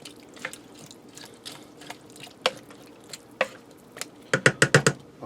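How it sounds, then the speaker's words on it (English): Beef and vegetable soup with salt and black pepper being stirred in a pressure cooker pot, giving scattered wet clinks and drips, then a quick run of five louder spoon knocks near the end, with no talking. "Give this a stir to get everything mixed together and get our spices down in there."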